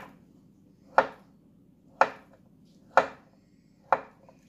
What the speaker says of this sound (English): now I'm gonna start chopping the avocados.